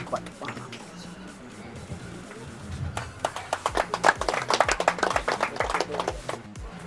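Audience clapping at an inauguration ceremony for a free first-aid health centre, starting sparse and building into a dense burst of claps from a nearby crowd in the second half, with voices under it.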